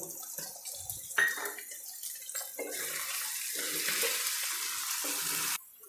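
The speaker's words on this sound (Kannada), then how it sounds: "ಈಗ ಸೋರೆಕಾಯಿ ಎಣ್ಣೆಲಿ ಚೆನ್ನಾಗಿ ಫ್ರೈ ಆಗಿದೆ" Chopped bottle gourd fries in hot oil for a pickle, with chili powder added. Scattered stirring and clatter come first, then a loud steady sizzle takes over and cuts off abruptly near the end.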